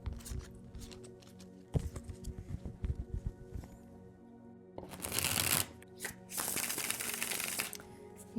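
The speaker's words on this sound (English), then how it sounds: "Let's shuffle these cards." Tarot cards are shuffled by hand in quick riffling bursts, with soft taps and a couple of longer, louder shuffling runs close up.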